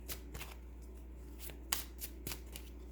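Tarot cards being shuffled for a Virgo reading, a quick run of crisp riffling snaps and slides, close and fairly quiet, with no talking.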